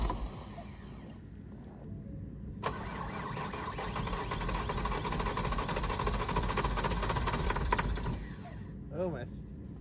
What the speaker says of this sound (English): Eventually, he got it started.